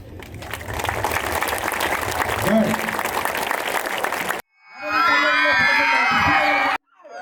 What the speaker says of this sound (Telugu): ఇప్పుడు చప్పట్లే